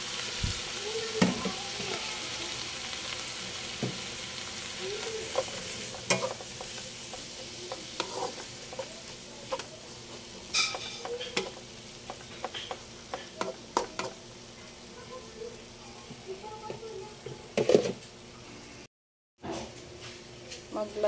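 Fresh mushrooms with shrimp frying in a pan, with steady close sizzling, scattered utensil clicks and scraping from stirring throughout, and a short break near the end.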